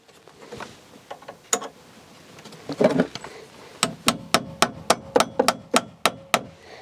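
Nails hammered into the framing of a cabin porch: a few scattered knocks, then a rapid steady series of about ten sharp, close hammer strikes.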